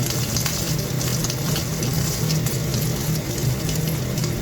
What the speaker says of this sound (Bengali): এই পাশটা 3 মিনিট রাখার পর আবার ডিমটা আমি উল্টিয়ে আবার 2 মিনিটের জন্য ভেজে নেব।